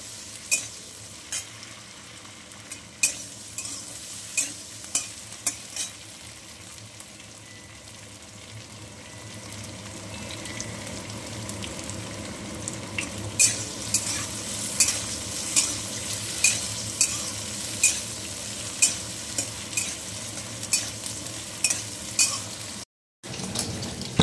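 Potatoes frying in oil with dried red chilli and nigella seeds for a radish-greens dish: a steady close sizzle with a regular run of spatula scrapes and taps against the pan, growing busier toward the end, no voices.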